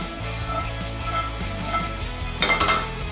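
Walnuts, about 70 grams, dry-roasting in an oil-free pan, with steady low rattling and clinking of nuts and metal, rising to a louder burst of clatter near the end.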